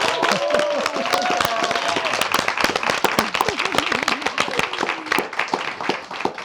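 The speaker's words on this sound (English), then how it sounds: "And let's give them a round of applause." Dense, loud applause from an audience honoring school superintendents at an education leadership event, continuous crowd clapping with a few raised voices mixed in, filling the whole stretch.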